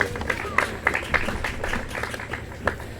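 Audience at a graduate programs graduation ceremony gives a round of applause, scattered claps from a moderate crowd heard at a distance in a reverberant hall, fairly soft and uneven.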